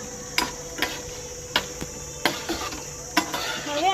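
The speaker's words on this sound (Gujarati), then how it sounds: "હવે આપણે આ ચીઝ ડાલી દીધું છે, એને મસ્તીનું હલાવી નાખીશું." Paneer sabji being stirred in a pan, with a spoon scraping and tapping the metal at irregular intervals over a faint sizzle.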